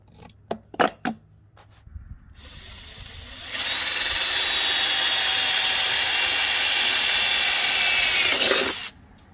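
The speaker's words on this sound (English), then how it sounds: "So that way I can confirm that the hole that I'm drilling is going to fit properly." A power drill boring a hole for fitting a bike rack to a car, with a few sharp taps first, then a loud whine that runs for about six seconds before stopping.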